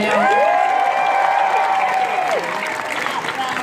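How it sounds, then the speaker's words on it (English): An audience at a BlizzCon Overwatch panel applauds and cheers, with crowd noise building briefly while amplified voices ring over the room before the clapping thins out. "Let's clap for Diva."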